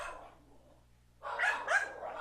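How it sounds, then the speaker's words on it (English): Barking from dogs in the background during an online sim race broadcast: one faint bark, a pause, then two louder barks close together. "I got dogs barking on my end, and I can't shut them up."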